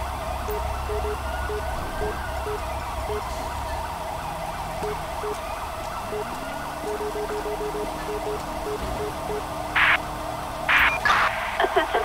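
A wailing ambulance siren in a police patrol video game rises and falls steadily for the whole stretch, layered with a low engine rumble and a few short electronic blips near the end.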